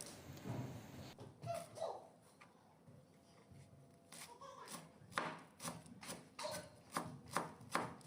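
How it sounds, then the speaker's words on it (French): A knife chops fresh coriander finely on a board in quick, rhythmic taps that grow more regular toward the end, close but quiet, with a faint dog whimper early on. "Je vais aussi couper la coriandre fraîche finement."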